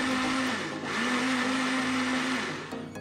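A kitchen blender whirs loudly and steadily, blending boiled carrot with sugar and milk, its motor pitch dipping briefly and then holding before tapering off near the end.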